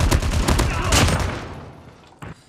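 Nonstop machine gun fire in Call of Duty on the Alcatraz map: a loud, rapid burst of shots rattling close for about a second and a half, then fading into a tail with one short echoing crack near the end.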